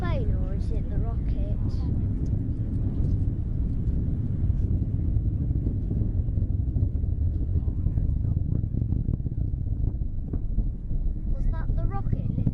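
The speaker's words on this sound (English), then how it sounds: "Was that the rocket lifting off?" A rocket lifting off gives a deep, continuous rumble heard from far away, steady and broad, with people talking over it.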